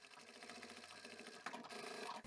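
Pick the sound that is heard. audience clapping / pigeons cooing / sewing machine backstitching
sewing machine backstitching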